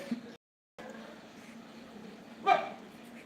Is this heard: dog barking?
yes